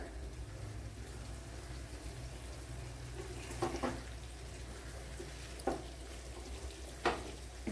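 Egg curry masala sizzling steadily in a pan, a low continuous fry heard alone, with a few brief clinks or stirs cutting through.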